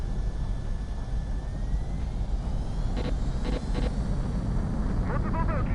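Jet fighter taking off in the Ace Combat video game, a steady loud engine roar with a rising whine throughout, with faint radio voices briefly over it.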